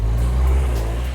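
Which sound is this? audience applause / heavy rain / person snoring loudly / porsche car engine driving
porsche car engine driving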